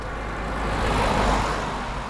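Road traffic rolls past on a breezy day in the Var countryside, a steady broadband rumble that swells as a vehicle nears mid-way and then eases off, with no talking.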